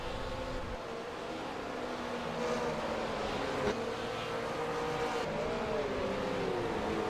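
GT race cars in a sim racing game at Road Atlanta drone steadily at a moderate distance, their engine whine rising and shifting in pitch as they circulate, with no voices heard.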